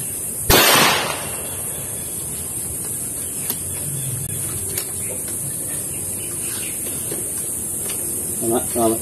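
A Taurus G3 pistol fires one sharp, loud shot at a 15-meter range, followed by a steady hiss and faint ambient noise, with a brief clatter near the end.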